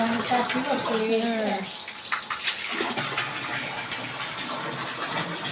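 Water pours and gushes steadily into a large household storage tank, a broad rushing wash that continues after a voice speaks over the start.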